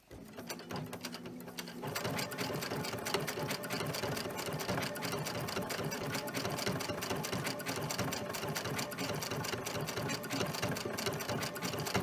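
A sewing machine set to low speed stitches a pillowcase seam at a slow, even pace, its rapid mechanical ticking steady and close after a brief quieter start.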